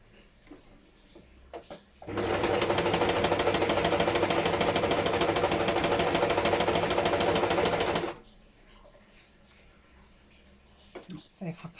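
A sewing machine stitches paper embellishments in one steady, loud run of rapid needle clatter lasting about six seconds, with quiet handling noises before and after.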